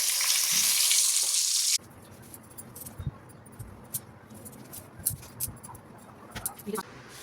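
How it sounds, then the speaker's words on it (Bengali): Fish bones frying in a pan, a loud steady sizzle for the first couple of seconds, then quieter crackling with scattered clinks and scraping. "এই কাঁটাগুলো ভাজা হয়ে গেছে, আর কটা বাকি আছে, সেই কটা ভাজতেই হয়ে যাবে।"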